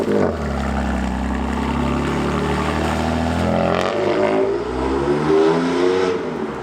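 Modified BMW M2 Competition engine and exhaust idling at tick over, a loud, steady, deep rumble that holds throughout with a slight rise near the end; no talking.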